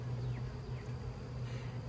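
Honey bees buzzing around a beehive landing board as bees are pulled off and dropped onto it: a steady low, droning hum close by, with occasional individual bees flying past, fairly faint and unbroken throughout.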